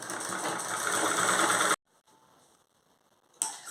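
A sewing machine stitching thread piping onto a blouse runs steadily for under two seconds, then cuts off into near silence before starting again briefly at the end.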